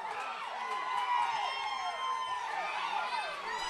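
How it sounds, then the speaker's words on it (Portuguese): A football crowd at a Chapadinhense championship quarter-final roars steadily after an Olaria goal against América, a distant continuous cheer under a commentator's voice. "A torcida do Olaria se anima."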